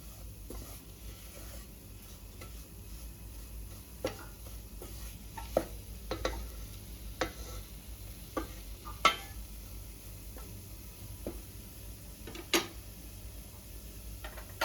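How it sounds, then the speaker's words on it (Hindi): Flour (maida) roasting in a pan over a medium gas flame, a soft steady sizzle broken by sharp ticks and scrapes of a spoon stirring against the pan. "मीडियम फ्लेम में ही हमें मैदे को भूनना है।"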